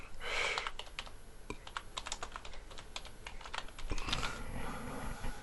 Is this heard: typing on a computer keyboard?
yes